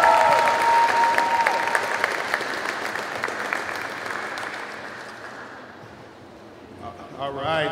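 A crowd applauds Skylar Wheeler at a semi-pro basketball game in a gym, loud and dense at first, then gradually thinning and fading, with an announcer's voice and crowd chatter coming up at the end.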